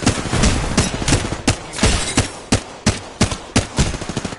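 Rapid video game gunfire crackles in close, loud bursts, with sharp repeated shots coming in quick, uneven volleys that keep going from start to finish.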